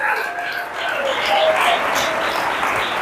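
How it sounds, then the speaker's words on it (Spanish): Steady applause from a church congregation, a dense wash of clapping that holds for a few seconds, with a faint bit of sustained tone drifting through. "Dale un aplauso a Jesús en esta hora."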